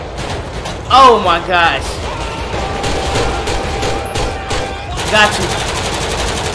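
Gunfire in GTA 5 with the LSPDFR police mod, a few sharp shots and short bursts mixed with game noise, while a player talks excitedly over it.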